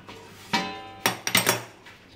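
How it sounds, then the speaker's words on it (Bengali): Dishes, pots and pans clattering as they are washed and put away in a home kitchen, a few sharp separate clanks and clinks, then a quick cluster of knocks, close and fairly loud. "চলো তাহলে আমরা সব বাসন ধুয়ে ধুয়ে রাখছি"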